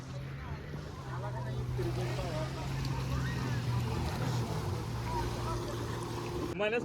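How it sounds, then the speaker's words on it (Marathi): Two boats approach on Vasota lake, a steady low motor hum over lapping water, with people talking nearby throughout. "तो 2 बोट आल्या तिकडून"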